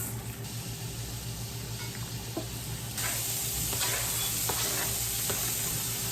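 Onions sautéing in a pan for a ground beef dinner, a dense, close sizzle that steps up louder halfway through, with occasional stirring taps.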